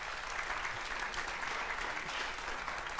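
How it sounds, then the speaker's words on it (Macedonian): An audience gives sustained, even applause for the Macedonian Radio Television big band and conductor Kire Kostov at a televised Ohrid–Bitola song show, dense clapping filling the hall without a break. "ве молам еден огромен аплауз за биг бендот на Македонската радиотелевизија"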